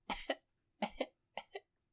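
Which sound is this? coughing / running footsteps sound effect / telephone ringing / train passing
coughing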